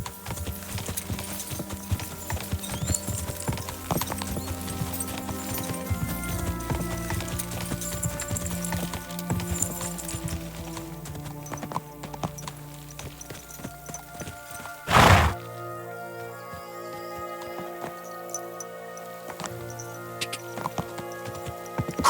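Horse hooves gallop in a steady clip-clop in Kingdom Come: Deliverance II, a medieval role-playing game, running continuously over a musical score, with a brief louder burst near the end.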